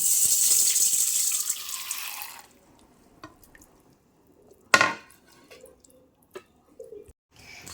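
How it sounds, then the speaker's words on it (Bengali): Rice and lentils are washed in a bowl of water at home. Running, splashing water opens the clip and cuts off after about two seconds. Scattered drips and a few sharper knocks and sloshes of grains and water in the container follow, close by, with no speech. "খুব ভালো করে সব চাল ডাল এগুলোকে কিন্তু বেশ কয়েকবার ধুয়ে নিতে হবে"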